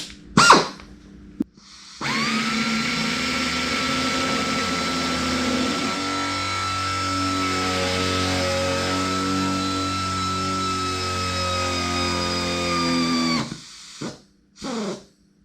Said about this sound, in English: I'm using this hand drill to upsize a hole from 1/8 of an inch to about 1/4 of an inch